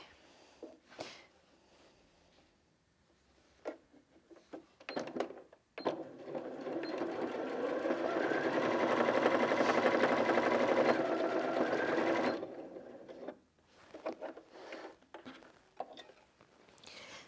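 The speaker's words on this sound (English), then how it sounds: "I've popped a jeans needle in the machine and I'm going to use the standard straight stitch and go for a slightly longer length because it's a thicker fabric." A Janome Sewist 740DC sewing machine runs a straight stitch through thick denim with a jeans needle, a steady whirring motor hum of about six seconds framed by brief clicks and handling sounds.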